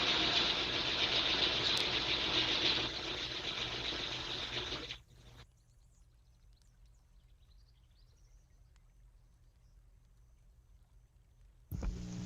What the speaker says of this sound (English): my wife was doing some stitching over in the dining area